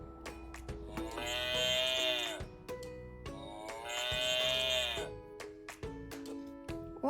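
A cow gives two long, drawn-out moos, each rich and droning, followed by a few shorter sounds.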